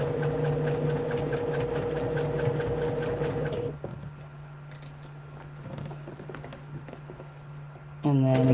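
Sewing machine stitching fabric, a steady humming whir at first, then slower stop-start stitching in short bursts, close by, with a person talking over it.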